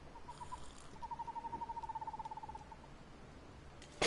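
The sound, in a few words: owl and bird noises in The Long Dark video game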